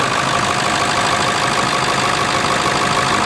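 A truck engine runs at a steady idle, a constant, even mechanical drone with a faint knocking texture, close and loud throughout with no voices.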